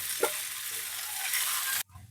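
Rohu fish frying in hot oil in a pan, a close, steady crackling sizzle with a small bump early on, cut off abruptly near the end, no voices.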